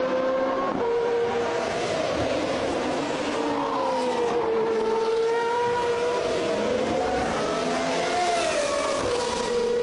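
GP2 Series race car engine at high revs, a loud sustained whine rising and falling through the gears as the car passes along the circuit, alone with no talk over it.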